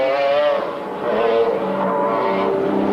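Porsche 911 Turbo race car lapping Paul Ricard in a 1995 BPR Global GT Series event, its engine a loud, continuous rasping drone with shifting pitch as it passes close by, alone without voices.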